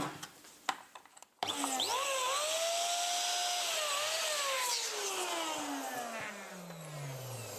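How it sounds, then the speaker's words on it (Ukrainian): Latex balloons are inflated with an electric pump while being sized through a 22 cm calibrator for a pumpkin balloon column; a loud, steady motor whine starts abruptly and runs continuously, shifting pitch slightly as each balloon fills. "надуваю та калібрую"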